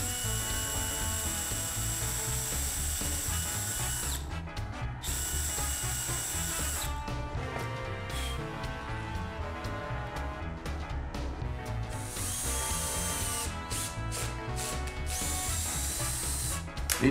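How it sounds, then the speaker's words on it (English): A power drill pre-drills and countersinks holes in wood, its motor whining in several bursts with brief pauses between, biting and rubbing through the timber close up. "And I'm going to pre-drill and countersink these."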